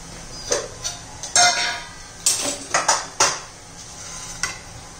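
A kadai is set down on a home stove and oil is added to heat it, before cooking a beetroot vegetable dish. Several sharp metallic clanks and knocks come close and clear, spaced irregularly, with no talking.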